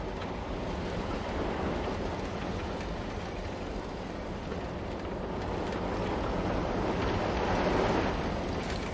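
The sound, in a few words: mine train roller coaster running in Planet Coaster 2 video game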